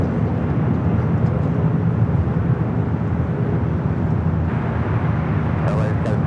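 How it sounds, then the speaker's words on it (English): A Latam Airlines Boeing 787-8 Dreamliner takes off from runway 25 right at LAX bound for Santiago, Chile, its loud, continuous engine roar and deep rumble filling the air without a break. "603 taking off to Santiago, Chile on the 787-8 Dreamliner"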